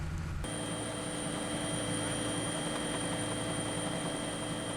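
A helicopter drones steadily in the distance over a bluefin tuna fishing ground at sea, its rotor hum and whine constant throughout, with no voices.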